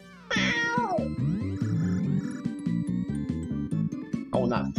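A cartoon cat meows loudly in a retro video game on a Super Console X, its chirpy electronic mewing over a bouncy chiptune soundtrack with a quick rising sweep, and a second meow near the end.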